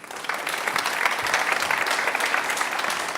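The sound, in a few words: studio audience applauding guest Franz Govart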